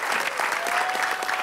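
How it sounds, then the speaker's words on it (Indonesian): A studio audience claps in a brief, dense burst of applause that stays fairly even throughout, with no clear speech over it. "tepuk tangan dulu"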